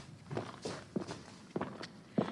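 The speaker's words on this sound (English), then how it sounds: "I can hear footsteps." Footsteps approach in a tunnel: five or six evenly spaced, soft thuds, each with a little scuff and reverberation, sounding moderately close and fairly quiet, with no voices over them.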